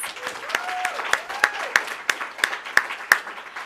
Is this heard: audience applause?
yes